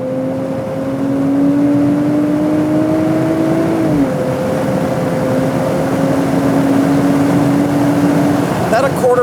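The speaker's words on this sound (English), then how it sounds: "it's time to give launch control a whirl, so we're gonna go ahead and line up on this drag strip here" A 2024 Nissan Z Nismo pulls away hard under launch control on a drag strip, its engine note climbing steadily in a smooth, loud sustained drone with one brief dip as it shifts, then carrying on as it accelerates.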